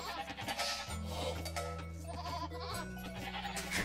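Sheep bleat in a video game, wavering calls layered over a droning in-game backdrop, fairly close and clear with no talking over them.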